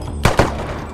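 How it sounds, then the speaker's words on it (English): Two sharp gunshot bursts crack close together in Company of Heroes with the WW3 mod, followed by a fainter distant pop, loud and brief. "Under fire! We're getting shot up here!"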